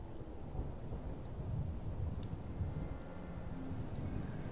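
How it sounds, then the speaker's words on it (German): Rain pours down with rumbling thunder in the video game Dishonored 2 at a train station, a steady dense hiss of falling water under a low rolling rumble, with no talking. "Ein leichter Regenschauer kommt runter."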